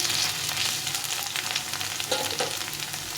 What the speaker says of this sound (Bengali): আলুটা অনেকটা ভাজা হয়ে গেছে